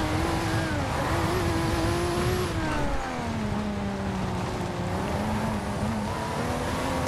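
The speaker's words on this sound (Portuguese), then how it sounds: "dá pra meter até um drift aqui" A car engine revs steadily with shifting pitch as the car drifts through an airport in the racing game Forza Horizon 2, a continuous loud engine whine and tire noise with no voices.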